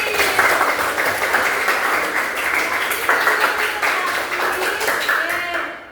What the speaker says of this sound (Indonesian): tepuk tangan buat Afif.